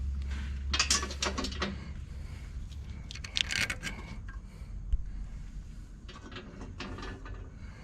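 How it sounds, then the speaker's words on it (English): Bolts being fitted and tightened on a Bosch fuel injection pump from a Case backhoe, giving faint metallic clicks and scrapes at an irregular pace over a low steady hum. "line the dowels up, and put your bolts back in."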